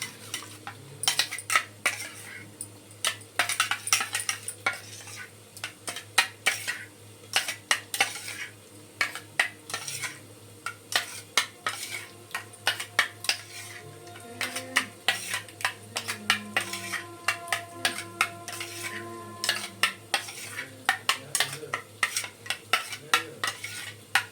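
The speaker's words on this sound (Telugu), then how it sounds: "దానిలో ఒక చిటికెడు ధనియాల పొడి, చిటికెడు జీలకర్ర పొడి వేసి మిక్స్ చేసేసుకుందాం" A spoon stirring a pinch of coriander powder and cumin powder into yogurt for brinjal curry, with repeated clinks and scrapes of metal against a steel bowl in an irregular rhythm, close and clear with no talking.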